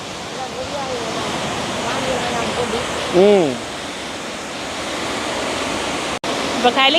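Water gushes steadily from the opened sluice of Muthaiyankattu reservoir at night, a broad continuous rush that fills the scene, with a voice briefly rising over it partway through.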